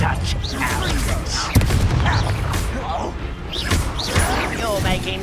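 Incendio fire spell cast in the Hogwarts Legacy video game, a burst of whooshing flame and booming impacts amid busy combat effects, with voices speaking over the action.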